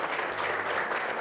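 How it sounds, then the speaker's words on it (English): A brief stretch of warm audience applause welcoming the next speaker at a construction industry talk, dense and even clapping throughout. "lovely warm round of applause for our next speaker"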